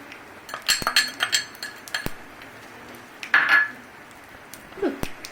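A metal spoon stirs fennel and cumin frying in a pan for Indori poha, sharp clinks and scrapes against the pan in irregular bursts, close and fairly loud, with no voices.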